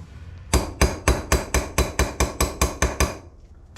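Hammer taps on engine parts during a roller cam swap on a 1955 Plymouth: about a dozen sharp, evenly spaced metallic strikes, close and loud, with no talking.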